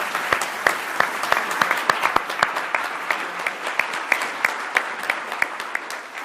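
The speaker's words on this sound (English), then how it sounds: "giving a very warm round of applause for our shortlisted authors" Audience applause at the close of an evening book event honouring shortlisted authors, a moderate room-filling patter of many hands with sharper individual claps standing out, steady throughout.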